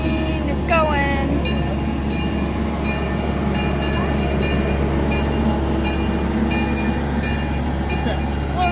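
Slow zoo train at Brevard Zoo rolling along its tracks, a steady low rumble with squeaks and clanks throughout, people talking over it.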